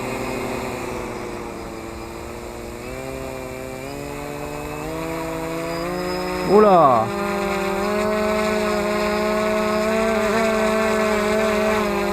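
Motors of a Wingsland M1 drone with a fault whine in a steady, buzzing drone that rises in pitch over several seconds, loud and close, with a short exclamation from a voice partway through.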